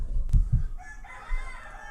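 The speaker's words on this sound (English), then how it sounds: "There's a lot of roosters and chickens in Hawaii anyway" A rooster crows in Hawaii, faint and somewhat distant, as a drawn-out, wavering call that starts after a couple of dull thumps nearby. No one speaks.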